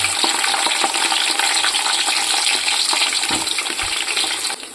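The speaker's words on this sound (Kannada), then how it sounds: "ಇದಕ್ಕೆ ಈರುಳ್ಳಿ ಮತ್ತೆ ಪಲಾವ್ ಎಲೆನ ಹಾಕೊಳ್ತಾ ಇದ್ದೀನಿ" Onion and bay leaf frying in a pot for biryani, giving a loud, steady hiss and crackle that holds evenly throughout with no talk.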